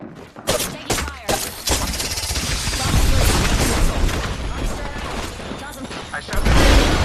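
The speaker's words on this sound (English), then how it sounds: "I'm taking fire." Heavy video game gunfire roars nearly continuously, sharp close shots at the start giving way to sustained automatic bursts and booming impacts, loud throughout, with voices speaking underneath.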